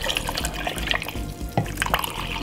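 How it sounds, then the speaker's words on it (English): Natural water poured into a blender over apple and beetroot for a fresh drink, a short close splashing and trickling burst. "Then we're gonna put some natural water inside of it"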